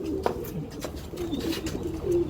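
Pigeons from Andhra Pradesh, kept for sale, coo in low rolling bursts nearby, several short calls spread over a couple of seconds with light rustling between them.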